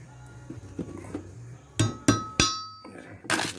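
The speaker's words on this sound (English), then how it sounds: "just pretty much hammer it right in there" Metal hammer strikes ring out sharply, driving a disc-brake part into place on a 1966 Toyota Stout truck, three in quick succession followed by another, over quiet background tapping and hum.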